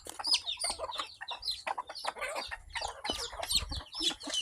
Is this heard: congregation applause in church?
no